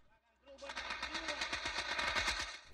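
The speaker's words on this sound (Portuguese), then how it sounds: "e a pistola que atira." Rapid gunfire from an excerpt of a Chilean documentary film, a fast burst of repeated shots over a low background tone, with a voice heard briefly under the shooting.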